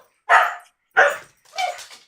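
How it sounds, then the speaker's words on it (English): Dogs bark in three loud, close bursts, two sharp woofs followed by a slightly longer, rougher bark, with short silences between them and no voices. "What are they doing now? Barking their asses off."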